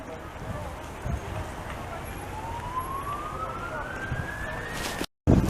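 A police siren rises in a long steady sweep on Park Avenue in Montreal on a cold, windy evening, heard at middle distance over wind and street noise before a brief cut.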